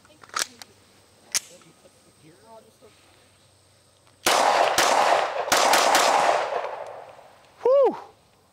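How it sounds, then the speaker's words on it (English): A Smith & Wesson Performance Center Carry Comp compact pistol is fired outdoors, first two isolated sharp shots, then a rapid burst of several cracks with echoing tails, loud and close. "Let's run some rounds through these things."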